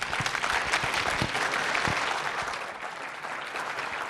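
Audience applause fills a room in Laughlin as a presenter is brought on stage at a UFO and paranormal event, dense and even throughout, a little distant, with no talk.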